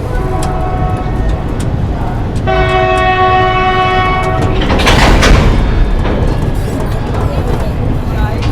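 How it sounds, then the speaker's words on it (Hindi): A train at Ahmedabad Junction railway station sounds a loud, sustained horn for about two seconds over the rumble of rolling railcars and station noise. "आपका स्वागत है इस रूट के सबसे इम्पोर्टेंट रेलवे स्टेशन और मेरे घर अहमदाबाद जंक्शन"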